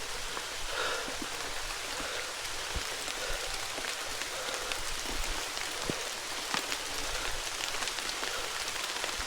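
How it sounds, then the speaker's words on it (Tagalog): Steady drizzle falling on a wet, slippery mountain trail during a typhoon, a continuous close hiss of rain with scattered louder drops, no voices. "Tuloy-tuloy na yung ambon. Malakas ng konti."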